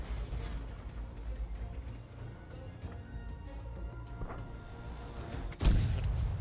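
Tank cannon fire in World of Tanks, distant booms and rumbling battle ambience with one loud close shot near the end.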